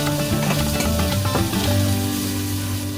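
Onions hit hot oil in a wok and set off a loud, continuous, crackling sizzle close up, with a few clinks and scrapes of stirring and no talk.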